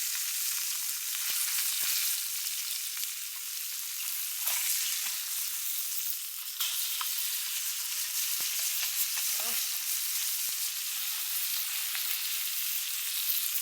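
Fish frying in hot oil on a stove, a steady loud sizzle running throughout with a few soft clinks and scrapes as the pieces are flipped.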